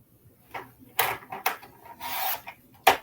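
Short, close scraping cuts as paper is trimmed down for a handmade card, coming as a handful of brief rasping strokes with a longer one in the middle, set against a quiet background.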